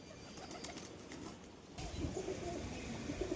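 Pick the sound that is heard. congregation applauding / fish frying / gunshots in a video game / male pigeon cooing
male pigeon cooing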